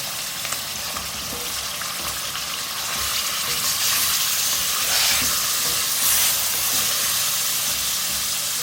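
Mutton mince fries in oil in a karahi, giving a constant close hissing sizzle that grows a little louder partway through, with faint stirring.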